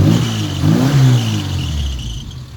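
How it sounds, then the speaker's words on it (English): A Classic Mini engine revving up close and loud, its pitch rising and falling through one blip before settling back toward idle, with a slight belt or clatter noise underneath. "Give it a rev."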